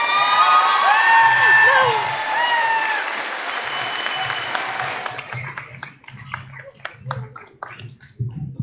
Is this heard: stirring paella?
no